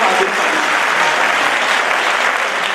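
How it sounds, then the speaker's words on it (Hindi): Dense, steady audience applause fills a live stage show, loud and continuous clapping from a large crowd for a few seconds with no speech over it. "तालियां बजाओ"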